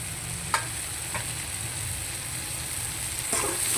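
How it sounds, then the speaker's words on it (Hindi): Okra (bhindi) frying in a prepared masala, a steady soft sizzle with a few brief stirring clinks and scrapes, close and continuous, no talking. "तो अब मैं ये भिंडियाँ भी इसके अंदर ऐड करने लगी।"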